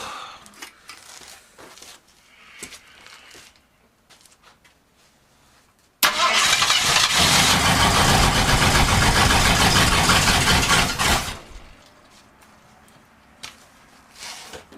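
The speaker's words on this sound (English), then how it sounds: "Give it a little more fast idle." Engine of a Mad Max-style wasteland car build, running again for the first time in decades, roars at fast idle for about five seconds, loud and close, between quieter stretches of ambient shop noise.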